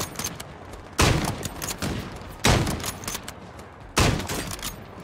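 Gunfire in Call of Duty Warzone on Rebirth Island, with three loud bursts of rapid shots about a second and a half apart, each fading into a dense rattling tail, close and alone without speech.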